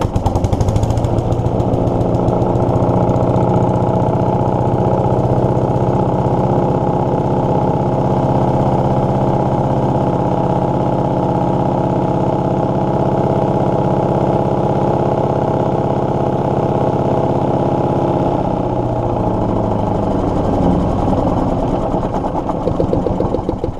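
A Briggs and Stratton Intek engine on an Earthquake wood chipper runs loud and steady for over twenty seconds with an even, buzzing drone, then its pitch drops slightly near the end.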